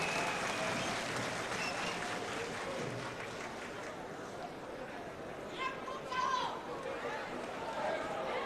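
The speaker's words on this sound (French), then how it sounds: "Madame Madeleine Théa, sous vos applaudissements." An audience at an RPG Arc-en-Ciel political convention in Guinea claps in a sustained round of applause, steady at first, then thinning before a brief swell, with crowd chatter mixed in.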